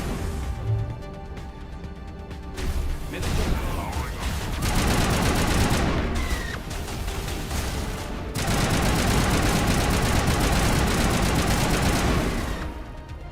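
Sustained rapid gunfire in the video game Mass Effect 1, loud bursts of automatic fire with short pauses between volleys, dense and continuous through most of the stretch with little talk.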